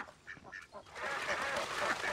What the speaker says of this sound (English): He really into the ducks.